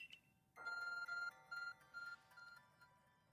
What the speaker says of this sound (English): Your ARC phone is beeping.